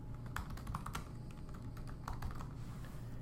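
Typing on a computer keyboard, with the return key pressed, a quiet, irregular patter of light key clicks over a low steady hum.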